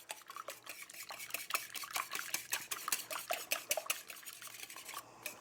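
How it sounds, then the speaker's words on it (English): Six large eggs are whisked in a bowl for a muffin batter, the whisk making quick, rhythmic clinks and scrapes against the bowl's sides, close and fairly quiet, with no talking. "I'm going to give that a little whisk. Break those eggs up."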